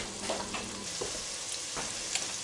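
Onions frying in bacon grease for German potato salad, a steady, quiet sizzle with a few soft stirring scrapes, close up and without talk.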